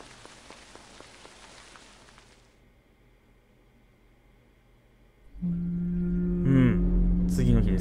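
Rain patters steadily in the horror game Tsugunohi during the rainy season, a soft hiss of drops that thins out, then gives way to a louder low hum with a rising tonal sound near the end.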